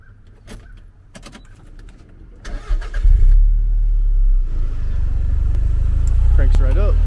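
A 1994 Toyota MR2 GT turbo cranks briefly after a few clicks and keys, then fires and settles into a steady, loud idle close by.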